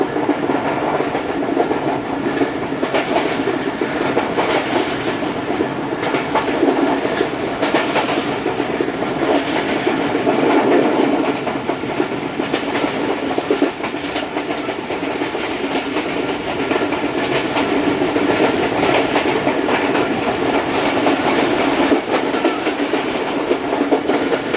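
The Jaffar Express running at about 105 km/h between Peshawar Cantt and Lahore, a loud continuous rumble with rhythmic clickety-clack of wheels on rail joints throughout, heard from inside the train with no talking.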